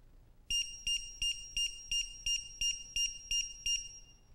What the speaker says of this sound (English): You get 10 beeps, it'll pause, and then we'll get another 10 beeps